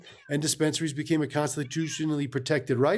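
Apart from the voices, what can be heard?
cat meowing in the background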